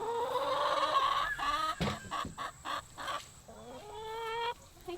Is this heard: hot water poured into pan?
no